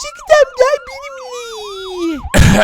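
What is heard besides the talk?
ambulance siren in Minecraft video game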